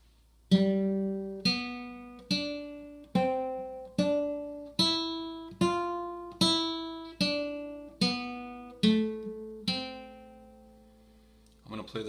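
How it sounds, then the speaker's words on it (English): A guitar plays a short line of written notation, about a dozen plucked single notes in a steady, even pulse, each ringing clearly and decaying before the next, quiet and alone. "I'm going to play these 3 measures, and my voice that I'm going to choose is my instrument or my guitar."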